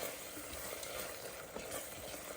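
Well-cooked masala stirred in separating oil for kuska pulao, a soft continuous sizzle and frying crackle with faint scraping of the spoon, low and close, no voices.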